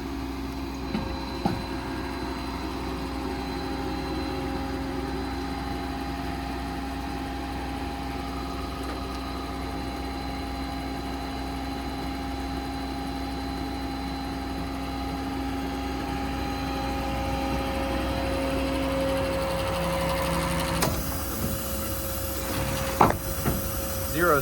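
An IMT 7500 lb truck-mounted crane on a 2022 Ford F-550 4WD diesel runs at speed, a steady mechanical engine and hydraulic drone with a constant tonal whine holding for most of the stretch, then shifting near the end, with no voices.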